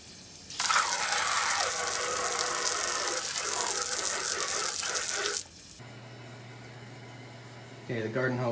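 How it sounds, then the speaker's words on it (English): Low-pressure water from a garden hose sprays over a metal plaque found in gravel, a loud, steady, close rush lasting about five seconds. It cuts off to quiet background with a brief murmur near the end. "the garden hose didn't really have enough pressure"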